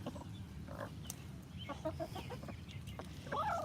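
Soft, scattered clucks from hens close by as they are fed strawberries, a few short calls rising over a steady low background rumble.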